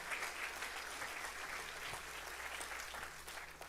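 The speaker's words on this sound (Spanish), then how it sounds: "¿Qué le parece si le das un fuerte aplauso al Señor?" A church congregation claps steadily, a dense, even wash of applause filling the room at moderate distance with no talk over it.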